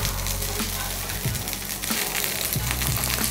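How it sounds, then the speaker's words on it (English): Shrimp patties fry in a hot pan until crisp, a loud close sizzle with crackling pops and a few soft bumps against the pan, steady with no talking. "I'm frying this a minute per side."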